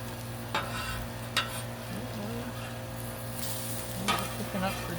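Chicken burgers fry on a flat griddle with a steady, soft sizzle, punctuated by a few faint scrapes and taps.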